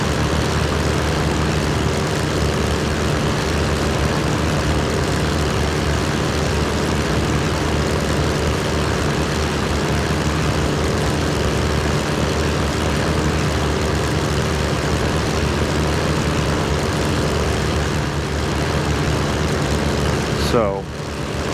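A propeller airplane climbs through 7,000 feet in the Prepar3d flight simulator, its engine a loud, steady broadband drone with no letup, cutting off abruptly at the end.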